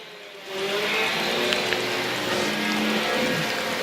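Race cars at an Alabama state racing event circling the track, a steady engine drone with rising and falling harmonic tones under a constant broad roar, continuous for the whole stretch.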